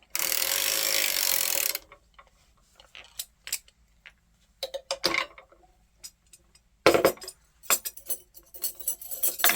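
Circular sock knitting machine cranked by hand while making a dense sock with Lycra, a close whooshing rush of mechanism noise, then a string of irregular clicks, rattles and ratcheting clacks, with another brief rush partway through.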